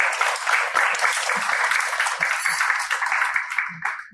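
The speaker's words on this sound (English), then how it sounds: "So a big applause for Dr. Rajiv Ahuja" An audience claps for a doctor at a healthcare conference. The applause is steady and fairly close and runs for a few seconds, with a few voices mixed in.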